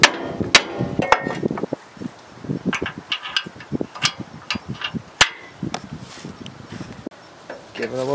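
A hammer taps a Case International Harvester compact tractor disc harrow into place outdoors, a run of sharp, close metallic knocks at uneven intervals mixed with voices talking.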